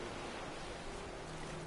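Ocean waves roll and wash steadily against coastal rocks in Skyrim, a faint, even surf noise that carries on without a break and has no talking over it.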